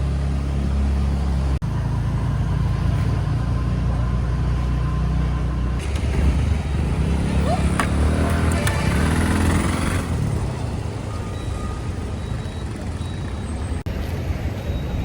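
Cars pass through a small narrow street, with a steady close engine rumble that swells as a vehicle goes by midway, then fades to a lower drone.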